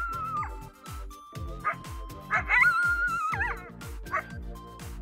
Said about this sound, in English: you may be lucky enough to hear a coyote howling